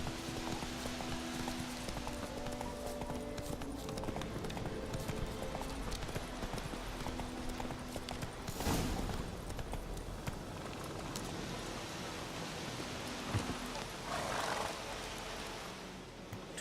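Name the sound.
horse hooves galloping in a video game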